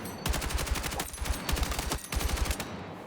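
Automatic rifle fire in Battlefield 6, three tight bursts of rapid shots separated by short pauses, loud and close with no talking.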